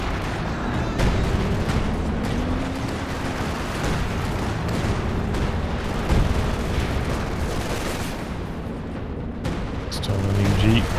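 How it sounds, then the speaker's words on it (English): Machine gun fire in Company of Heroes 2, a World War II strategy game, rattling steadily amid artillery booms and explosions throughout, with a voice talking over the battle. "Still an MG getting to work there."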